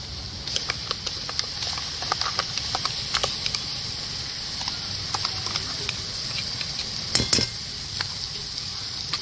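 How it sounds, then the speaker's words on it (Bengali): Spice paste is stirred into lightly browned onions in a pan, giving a steady sizzle and hiss with repeated sharp clicks of a utensil scraping against the pan. "খুব ভালো করে নাড়া দিয়ে নিব একবার।"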